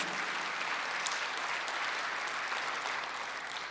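Congregation applauds during a Korean Sunday church service, a steady, even wash of many hands clapping, heard faintly and distantly without any break.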